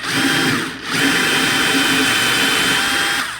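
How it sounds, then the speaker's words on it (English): A power drill bores into wood for a farmhouse decor project, running in two loud, steady bursts separated by a brief pause. "I'm drilling right in the middle of our line."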